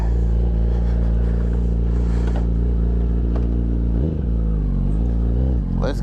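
Motorcycle engine running steadily while riding to work, a loud continuous low drone with rumbling harmonics that dip briefly near the end as the throttle shifts.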